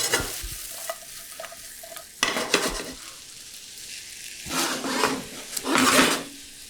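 Ceps with seasoning and white pepper fry in a hot pan, crackling sizzle punctuated by bursts of tossing and stirring, close and alone without speech.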